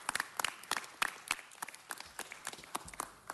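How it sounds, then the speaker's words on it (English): Scattered, faint clapping at a Los Angeles City Council presentation for AIDS Walk volunteers, sparse individual hand claps rather than a full ovation, heard alone at a distance. "the tremendous cadre of APLA volunteers who do deserve a round of applause from all of us"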